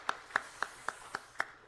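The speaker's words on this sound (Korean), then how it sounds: "하나님께 영광의 박수 올려드립니다." Six slow, evenly spaced claps ring out alone during a church worship service, crisp and moderately close with short gaps between them.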